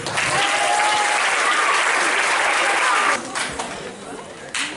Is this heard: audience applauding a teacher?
yes